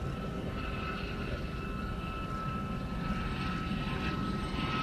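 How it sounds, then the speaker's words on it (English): An Airbus airliner backtracks along the runway at an air show, its engines giving a steady, moderately distant whine and roar that holds throughout with no talk. "there will be an Airbus backtracking to vacate Bravo"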